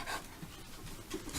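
A pet dog pants close by, its quick, breathy huffs repeating in a steady rhythm, loud and raspy over a short stretch with no talking.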